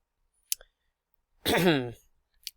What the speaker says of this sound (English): So you go ahead and click on that.